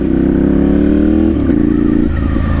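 A loud Ducati Monster 796 motorcycle exhaust holds a steady rumble, then drops in pitch as the engine decelerates, popping and burbling at the end.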